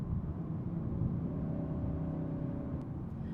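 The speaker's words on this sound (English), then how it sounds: "it just sounds like engine working very hard, where I don't expect to hear it." A midsize family sedan's engine strains under hard load, a steady low droning rumble from inside the cabin, moderately loud and continuous with no talking.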